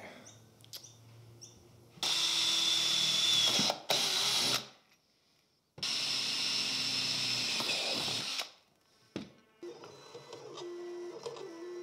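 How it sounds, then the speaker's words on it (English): A power drill whirs loudly in two long bursts, stopping and starting, with quieter mechanical clicks between runs, drilling through pre-drilled holes from the back of a crashed Ducati Panigale V2 motorcycle. "I can actually drill from the back because the holes are already pre-drilled"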